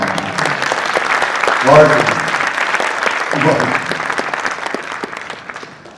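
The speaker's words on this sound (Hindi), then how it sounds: "एक बार तालियां अजहर भाई के लिए आएंगी" Sustained audience applause at a mushaira poetry gathering in honour of its host, steady dense clapping for about six seconds that thins and fades toward the end, with a voice briefly speaking over it.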